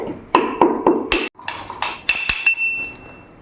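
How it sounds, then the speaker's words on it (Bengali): Fennel seeds are pounded in a mortar with a pestle, giving a string of sharp, clinking metallic strikes spaced irregularly, close and fairly loud, with a lingering ring after the later hits. "মৌরিটা অল্প আমি হামুদির সাথে একটু এরকম করে করে দেবো"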